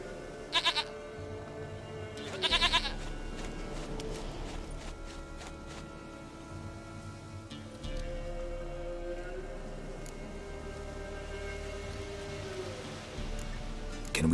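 In the video game Witcher 3: Wild Hunt, a goat bleats in two short, quavering bursts close by, set over a steady hiss of rain and a low rumble, with faint game tones drifting through the background.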